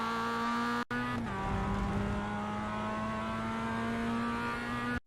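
A Mazda MX-5 race car in iRacing at Laguna Seca holds a loud, steady engine drone that drops out briefly near the start, then resumes with a throttle change and a sustained high-revving tone, with no voices.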